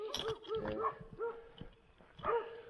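Dogs barking at night, a handful of sharp, fairly distant barks and yips in quick succession, with a quiet lull between them.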